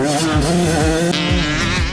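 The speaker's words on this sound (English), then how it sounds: "Jaxson had the smaller bike singing away" Yamaha YZ65 and YZ85 motocross bikes ride on a UK MX track, the smaller two-stroke revving loud and close with rapid rising and falling pitch sweeps as it shifts through gears.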